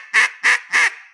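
A duck call blown in a hen cadence gives three quick, even, nasal quacks, close and clear with no talk.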